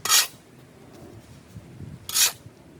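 Sand being added to top soil for a lawn-levelling mix, two short gritty pouring and rubbing bursts near the start and end, with faint scraping between them, close and alone.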